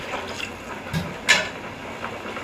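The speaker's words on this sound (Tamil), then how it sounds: "இன்னும் கொஞ்சம் தண்ணி ஊற்றிக்கலாம்" Water splashes and trickles steadily into a pot, close by, with a brief louder splash partway through and no talking.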